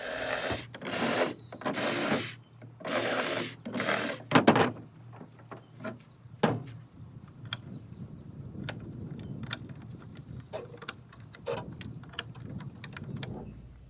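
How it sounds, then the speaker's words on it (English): Several loud, buzzing bursts of a power drill boring four holes for a hook on a portable ham radio mast holder, followed by scattered clicks, taps and mechanical rattling at close range. "Now we'll drill out the 4 holes"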